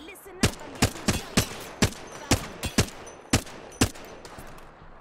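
A series of about a dozen sharp, close gunshots rings out in uneven succession during a firefight in Apex Legends, each crack distinct and fairly loud over a low background hum.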